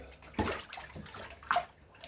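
Sugar is stirred into water for a homebrew John Bull IPA beer kit, giving a few soft sloshes and swirls with a brief splashy peak, close by and fairly quiet.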